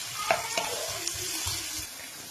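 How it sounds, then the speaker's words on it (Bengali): Chicken pieces frying with softened onions in a pan for noodles, a crackling sizzle broken by sharp scrapes and stirring clatters, close up. "মাংসগুলো এবার পেঁয়াজের সাথেই ভেজে নেব"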